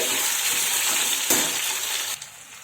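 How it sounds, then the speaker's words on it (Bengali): Mango pieces for pickle hit hot oil with panch phoron and dried red chillies, giving a steady loud sizzle with one sharp burst midway before the frying quietens toward the end; no talking. "এবার আমগুলো দিয়ে দিচ্ছি আমগুলো দিয়ে দিলাম এটা ভালো করে কষিয়ে নিতে হবে"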